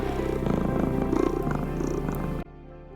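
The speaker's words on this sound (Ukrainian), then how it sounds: "Пригорнулося кошеня до дівчинки, Це замуркотіло." A kitten purrs close up in a steady, loud, rhythmic rumble that runs without pause and then cuts off abruptly near the end.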